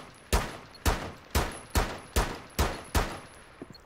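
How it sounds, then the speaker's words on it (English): Seven evenly spaced, loud gunshots from the shooter game Rainbow Six Siege, each a sharp crack with a short decaying tail, followed by faint small clicks. "I'm literally shooting at the camera and it wasn't listening"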